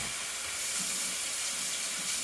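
Big strips of Farmland bacon hiss and crackle in a large pan, a steady bright sizzle with no talking.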